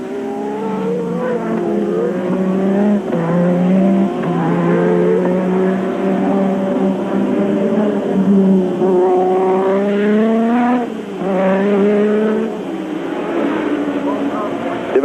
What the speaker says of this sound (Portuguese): Teve o carro do Arnoux e logo atrás o Alboreto